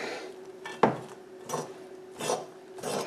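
Spoon stirring an oatmeal granola mixture with cherry-infused dried cranberries in a bowl, a few distinct scraping strokes in an uneven rhythm, close by and fairly clear.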